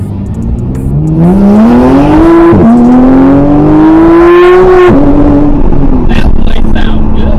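A manual Porsche GT3 with an aftermarket exhaust revs up loud and close while driving with the window down, its engine note climbing steadily with brief drops at gear changes.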